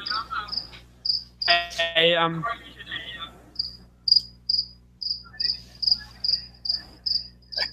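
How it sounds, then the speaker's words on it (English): A cricket chirps loudly and steadily close by, its sharp pulses repeating at an even rhythm, while people briefly talk over the first few seconds. "Cricket is loud as hell."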